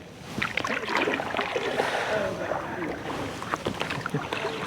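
A boat on the sea near Hong Island, Phang Nga, during sea kayaking: sloshing water and paddle splashes against the hull, with irregular lapping and scattered drips, close and moderately loud.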